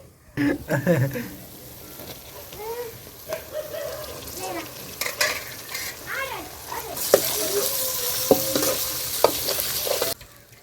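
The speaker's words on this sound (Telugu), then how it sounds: "ఇంక ఇప్పుడైతే టమాటా పండ్లు వేసుకుందామండి" Green chillies fry in a pan with tomatoes going in, giving a moderate sizzle and stirring scrapes that grow into a louder, brighter hiss toward the end, broken by brief clatters.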